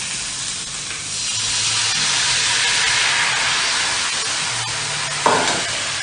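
A meat mixture sizzles steadily in a hot pan with the excess oil drained, a loud, continuous frying hiss with a brief sharper burst near the end.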